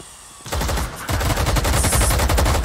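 Gunshots ring out in a Valorant match: a loud rapid burst of automatic fire starts after a half-second hush, pauses briefly, then continues in tight rhythmic volleys with no talking.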